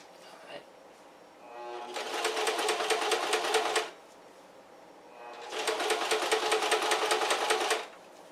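A sewing machine stitches a seam on a pair of shorts in two steady bursts of rapid rhythmic stitching, each lasting a couple of seconds, with a quiet pause between.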